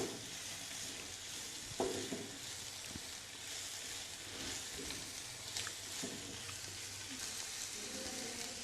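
Carrots cooking in a pan for vegetable pasta, a soft, steady sizzle with faint scattered stirring taps and scrapes, quiet and without talk.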